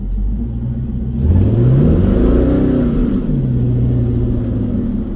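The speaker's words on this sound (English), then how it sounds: "She just smokes that tire." A 1985 Chevy C10 pickup with a swapped LS V8 revs hard while spinning its tire, the engine note climbing, peaking and falling back into a steady rumbling drone, close and loud with no talking.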